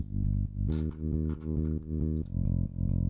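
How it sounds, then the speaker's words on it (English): A deep, distorted bass guitar in an Ableton project plays repeated sustained notes in a steady rhythm, loud and up close, with a brief bright noisy burst near the start. "During the verse, I just have a bass guitar,"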